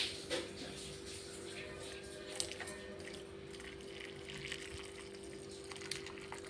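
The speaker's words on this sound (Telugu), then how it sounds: "మనం ఈ ముక్కల్లోకి ఈ వేడి వాటర్ అయితే వేసేసుకోవాలి." Hot water is poured onto thinly cut beef pieces for a beef curry, a faint, steady splashing pour over a low hum with a few soft clinks.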